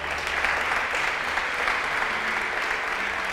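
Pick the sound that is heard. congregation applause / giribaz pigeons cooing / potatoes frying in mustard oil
congregation applause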